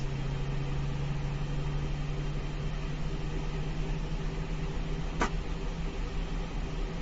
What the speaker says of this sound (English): Engine number 1 is still running, so we're waiting to completely finishing the startup procedure